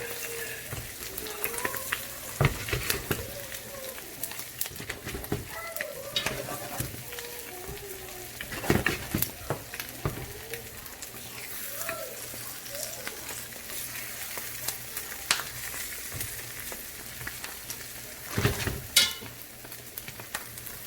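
A vegetable cheese omelette fries in an oiled pan, a continuous crackling sizzle punctuated by sharper pops and spatula clicks, with someone talking intermittently over it.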